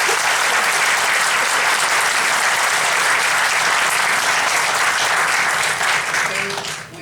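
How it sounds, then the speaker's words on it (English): Audience at a Portsmouth Commonwealth's Attorney candidate forum claps for the candidates in a full, even round of applause that stays loud and dense before tapering off at the very end. "So let's give our candidates a big round of applause."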